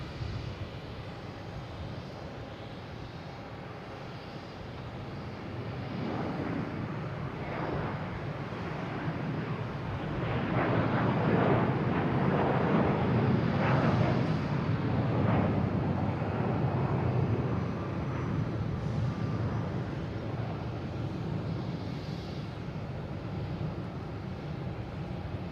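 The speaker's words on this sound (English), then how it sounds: "We have JetBlue taking off, heading to Phoenix, an A321." A JetBlue Airbus A321 on its takeoff roll at Boston Logan, bound for Phoenix: a broad jet engine roar that builds from around five seconds, peaks near the middle, then stays loud and steady with wind buffeting the microphone.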